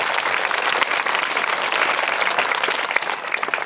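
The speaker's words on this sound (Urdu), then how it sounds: "بھرپور تالیاں اس کے لیے" Full, steady applause from a large audience at a school fundraising event, loud and continuous with a dense wash of many hands clapping at once.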